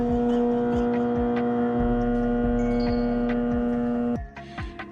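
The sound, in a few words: garbage disposal humming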